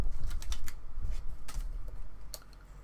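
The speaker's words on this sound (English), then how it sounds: "I'm actually going to grab a piece of paper and my knife" A knife slicing through a sheet of paper makes a few crisp, scratchy strokes in short bursts, close by, over a low background rumble.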